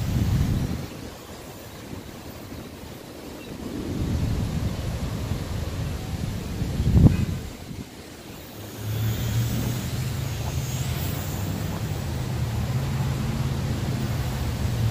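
Wind gusts rumble and buffet outdoors around a small H501S quadcopter drone being flown, surging and easing in waves, with a steady low motor drone emerging later.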